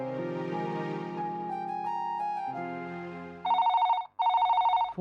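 A mobile phone rings with a melodic electronic ringtone, then switches to a repeated pulsing ring, loud and close, with no voices.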